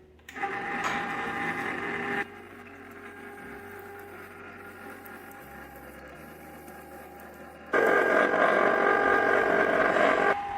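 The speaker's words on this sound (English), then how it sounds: "So now we add into my super cheap and very inexpensive, and I'm using on very big occasion, ice cream maker." An inexpensive home ice cream maker churning strawberry ice cream: a steady mechanical whir with a loud, bright motor phase, then a quieter stretch of low hum, then the loud whir returning.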